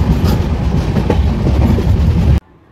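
The Shivamogga Town Intercity Express, hauled by a WAP-7 electric locomotive, rumbles loudly past at speed, a heavy continuous roar with rhythmic wheel clatter, then cuts off abruptly into near silence.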